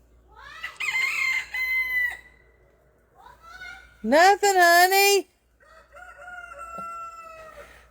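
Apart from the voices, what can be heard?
chicken clucking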